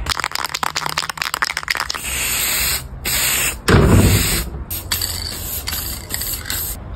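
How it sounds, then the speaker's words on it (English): Spray paint sprays onto an outdoor Christmas penguin decoration: a steady hissing spray in short bursts, with small clicks and rattles between them, close and fairly loud. "All I have to do is just give him a little bit of a spray paint"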